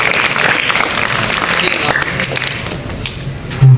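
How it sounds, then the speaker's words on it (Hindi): A roomful of participants at an Iqbal Day quiz competition applauds a correct answer, a loud, full burst of clapping that stays steady, with a deep thump near the end. "भरपूर तालियां"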